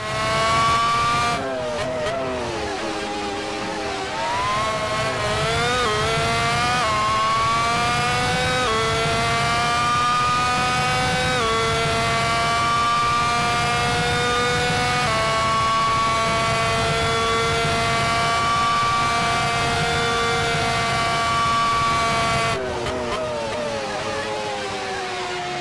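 A Formula 1 racing car engine from a 1998-season F1 game mod, at the Hungaroring, wails loud and high through a long lap run. Pitch climbs and drops with repeated gear shifts, and there is no talk over it.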